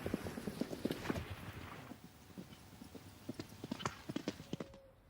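Horses' hooves clip-clop at a steady walking rhythm in the Normandy countryside, a close run of sharp knocks that pauses briefly midway before resuming, with an occasional faint whinny-like sound.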